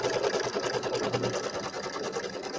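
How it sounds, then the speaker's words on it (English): An embroidery sewing machine stitches out a quilt block, giving a steady, close, continuous rapid whirring chatter of the needle with no pauses and no voices over it. "so it's still sewing out the block here"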